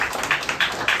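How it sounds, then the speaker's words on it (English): A round of applause for actress Gloria Sarfo from an event audience, with rhythmic bursts of clapping rising and falling through a short stretch. "I want us all to give a round of applause to this woman"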